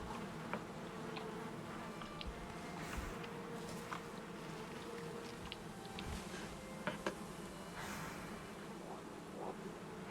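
A steady, busy buzz of many bees hums throughout in the video game Valheim, with small clicks and ticks scattered over the drone.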